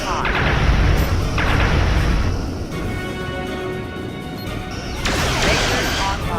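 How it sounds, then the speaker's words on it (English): Photon torpedoes fire in the Star Trek Legacy space combat game, a series of loud booming blasts and crashing impacts that fill the clip with dense, heavy bursts. "Photon torpedoes online."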